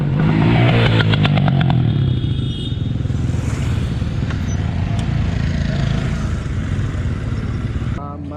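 A motorcycle engine runs close by, revving hard at the start and then settling into a steady, rough drone. The engine sound continues almost to the end before it drops off.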